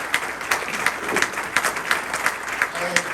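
Steady applause from a club meeting audience honoring award recipients, a dense field of many hands clapping at a fairly even level throughout, with faint talk underneath.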